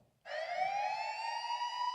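Police siren sound effect that switches on abruptly after a brief quiet moment, then holds as a loud, clear, steady wail rising slightly in pitch with no talking over it.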